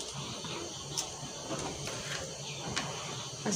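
A sewing machine stitches net fabric close to the edge for a ruffle sleeve, giving a steady mechanical whirr with a few sharp clicks at intervals, fairly quiet and close, with no talking.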